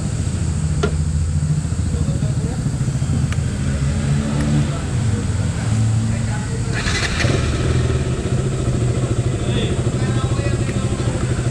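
A motorcycle engine idling and pulling away to ride on an early-morning trip from Delhi toward Haridwar, a steady close engine drone throughout with people talking over it.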